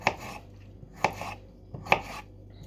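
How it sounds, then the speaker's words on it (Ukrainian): Three sharp knife chops on a cutting board, close up, spaced about a second apart with brief scraping between them. "Так, нарізаю."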